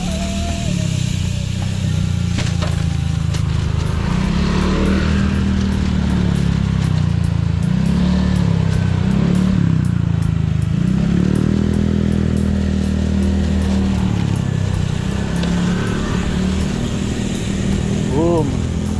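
A motorcycle is ridden over a potholed, bumpy road, its engine droning loudly and close with wavering pitch as the ride jolts along, with voices now and then under the noise.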